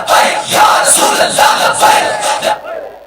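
A rally crowd chanting religious slogans, several loud rhythmic bursts of many voices shouting together in unison before a sudden stop.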